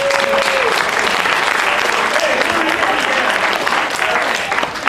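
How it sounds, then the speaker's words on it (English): Wedding guests give the bride Cassie a big round of applause, a dense, sustained wash of clapping from a full crowd. A few faint voices and whoops surface through it. "Let's give Cassie a big round of applause."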